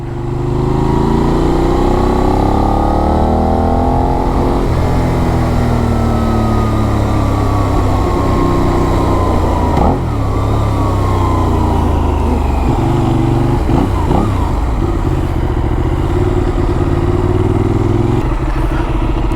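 A Benelli 752S motorcycle idles and revs close by, its engine and exhaust giving a steady, loud drone with rising and falling throttle blips and a mechanical clatter throughout.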